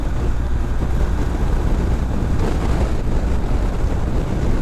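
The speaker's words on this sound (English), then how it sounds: "Wow, and the wind noise, so loud." Loud, steady roar of wind buffeting a rider on a BMW 1250 or 1300 motorcycle at highway speed, a continuous broadband rush with no talk over it.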